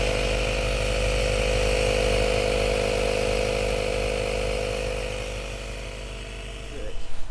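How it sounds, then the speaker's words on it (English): A Mopar tire service kit air compressor runs with a steady, loud, buzzing motor drone up close, holding nearly constant before a few clicks and bumps near the end. "So you turn it on, pump the air or sealant in it to your desired PSI"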